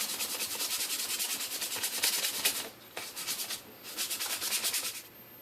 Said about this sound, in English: I'm going to take a little bit of sandpaper and kind of smooth it down